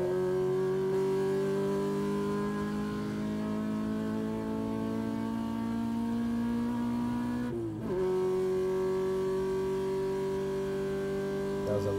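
Engine of a V16 Lexus IS in a racing video game, a steady sustained drone that holds pitch, dips briefly as the car slows, then settles again, loud and continuous throughout.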